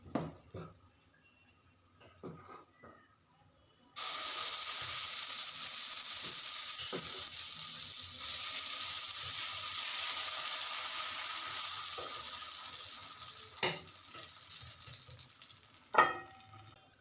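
Plain set dosa batter hits a hot griddle and bursts into a loud, steady sizzle that runs on for several seconds and slowly fades, after a few quiet kitchen clicks.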